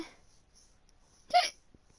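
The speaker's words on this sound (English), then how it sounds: "Oh, there's a hiccup." A person lets out a single short hiccup in an otherwise quiet room, a sudden brief burst standing alone.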